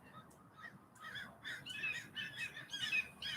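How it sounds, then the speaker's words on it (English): Birds chirp and call outdoors in California in the evening, a scatter of short high tweets and trills at moderate distance, irregular and continuous over a quiet background. "it's still light where I'm in California, and the birds. Hello, birds."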